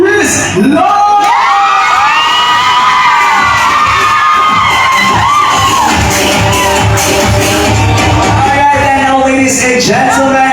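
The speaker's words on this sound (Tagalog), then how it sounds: "nais ko lang po din po hiyawan at bigyan ng masinang palakpakan si Sir Chris Lawrence!" Fans at a celebrity meet-and-greet erupt in loud cheering, high-pitched shrieks and whoops from an excited crowd, with clapping mixed into the din, sustained at close range for the whole stretch.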